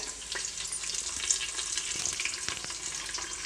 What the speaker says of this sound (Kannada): ಈರುಳ್ಳಿನ ಒಂದು ಸ್ವಲ್ಪ ಬ್ರೌನ್ ಕಲರ್ ಬರೋವರೆಗೂ ಫ್ರೈ ಮಾಡ್ಕೊಂಡಿದ್ದೀನಿ